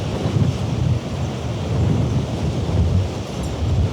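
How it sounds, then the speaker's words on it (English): Strong wind buffets the microphone on a snowy spring day in Toronto, a loud, continuous low roar rising and falling in gusts, with no talking. "Oh my God, what a wind."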